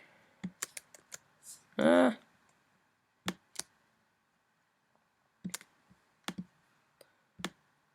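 Sharp mouse clicks from intro editing on a computer, scattered singly and in quick pairs across the stretch, near and crisp, with one short louder burst of another sound partway through.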